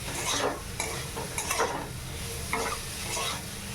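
Soybeans stir-fried with spice paste in a hot pan, giving a steady sizzle broken by scraping stirs of a spatula at a loose rhythm, close and alone.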